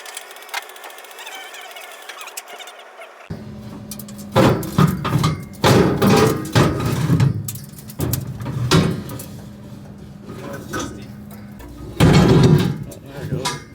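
Combine harvester concave being tightened to zero during a Nebraska corn harvest: after a silent start, a series of loud mechanical clunks and thumps arrive in bursts over steady machine hum, with people talking at times.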